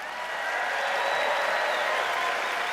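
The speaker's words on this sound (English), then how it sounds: "let's just make sure we give them all a big round of applause" Audience applause at an Adobe event, a dense, steady clapping from a large crowd that holds loud and even for a few seconds without any talk.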